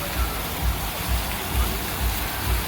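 A fountain at an outdoor beachside shopping and entertainment complex gives off a steady broad splash of falling water, with soft low thumps recurring at an even pace underneath.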